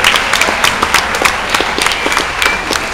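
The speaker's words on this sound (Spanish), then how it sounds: "pido un aplauso para los señores conferencistas" Cadets at a school sports-programme event give the invited speakers a round of applause: dense, steady clapping from a sizable audience that fills the whole stretch without pause, with no voices over it.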